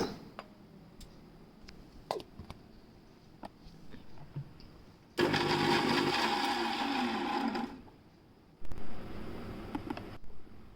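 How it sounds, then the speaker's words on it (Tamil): A mixer grinder blending beetroot with water whirs loudly in two bursts, a longer run followed by a shorter one, with scattered clicks and taps around them. "ஃபஸ்ட்டு பீட்ரூட்டை போட்டு கொஞ்சம் தண்ணி விட்டுட்டு அதை அரைச்சி எடுத்துக்கோங்க."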